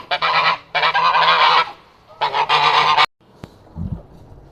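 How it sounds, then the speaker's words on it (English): Geese on a small Maine farm honking loudly and close by in several harsh bursts, followed by quieter shuffling. "The geese, they've also been not really very friendly"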